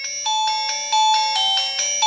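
A 2G mobile phone plays its ringtone, a bright electronic melody of repeating beeping notes in a steady rhythm, loud and close with no talking.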